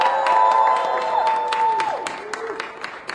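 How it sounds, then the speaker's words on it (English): Students at a student aid advocacy event give themselves a brief round of applause, scattered claps over a sustained tonal hum that thin out toward the end. "Give yourself a round of applause."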